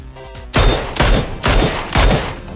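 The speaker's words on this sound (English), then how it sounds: "They're taking shots from elsewhere." Four heavy gunfire bursts ring out in the video game PlayerUnknown's Battlegrounds, loud booming shots about half a second apart, each with a sharp crack and a decaying tail while the Miramar map is driven.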